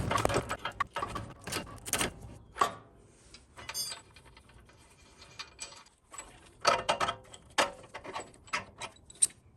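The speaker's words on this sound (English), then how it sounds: "now he's gonna switch to a ratchet and get it out the rest of the way" A hand ratchet backs out a control arm bolt during an upper control arm uniball replacement, giving quick bursts of metallic clicking with short pauses and clanks, close and fairly quiet.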